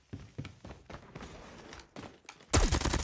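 FR.556 rifle fire in Call of Duty Warzone: a string of sharp, spaced shots, then a sudden louder, dense burst of gunfire and impacts at the end.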